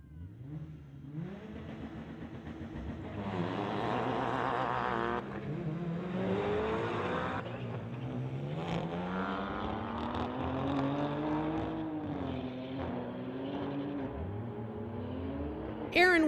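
A 2021 BMW and a 2006 Subaru drag race at a street-legal strip, engines roaring and revving through rising gear pulls, loud and continuous, with a brief sharp burst at the end.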